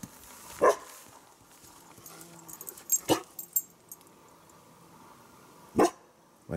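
A dog barks three separate times outdoors at a pond, sharp single barks spaced a few seconds apart over quiet background with faint rustling between.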